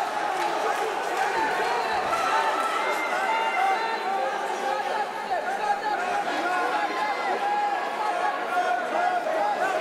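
A wrestling crowd murmurs and calls out in a steady, distant roar of voices that holds evenly throughout, with no single voice standing out.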